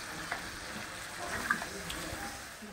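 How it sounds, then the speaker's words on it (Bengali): A little water poured into a pot of frying country chicken curry so it can boil, giving a faint, soft splash and bubbling sizzle close by. "আমি এখন সিদ্ধর জন্য একটু পানি দিয়ে দিলাম"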